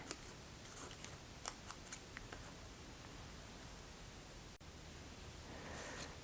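Scissors trimming paper for a planner page, giving a few faint, close snips early on against a quiet hiss of room noise.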